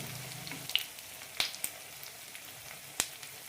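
Kannoorappam, a sugar appam, fries in a pan over a low flame, with a soft, quiet sizzle broken by a few sharp isolated pops and crackles, close and unaccompanied by talk.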